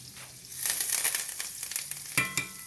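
Thyme dropped into hot butter in a pan, a close crackling sizzle that swells after a quiet start, with sharp spitting bursts near the end.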